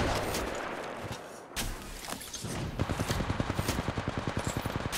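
Gunfire in Apex Legends Mobile: a few loud separate shots early, then a rapid automatic burst of evenly spaced rounds through the second half, close and punchy.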